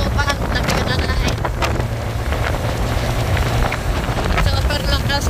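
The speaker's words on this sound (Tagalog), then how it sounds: "Super lakas na ang hangin." Strong wind buffets the microphone without letup, a loud low roar with gusty rumbling throughout, outdoors near farmland and sea with a sugar mill nearby.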